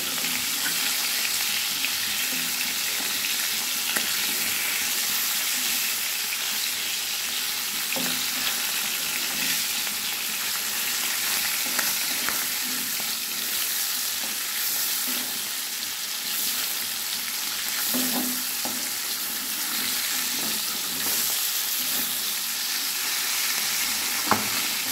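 Fish coated in ground spice paste fry in a pan with a steady, close sizzle and crackle, broken by occasional soft pops and stirring scrapes, continuing evenly throughout.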